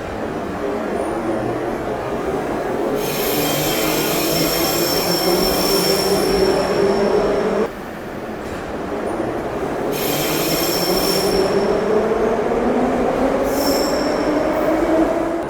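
Metro train ride in Uzbekistan: a loud rumbling car with high, drawn-out wheel squeals that rise and fall in several long passes, a brief dip midway, and no talking.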